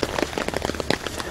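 Steady rain falls outdoors with a dense, close patter of drops, and no voices are heard.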